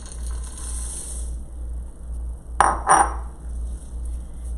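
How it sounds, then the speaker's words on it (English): Chocolate chips poured into a bowl, then stirred in with a spatula: two short close rattling, scraping bursts over a steady low hum, otherwise quiet. "Now you're going to add your chocolate morsels or your chocolate chips."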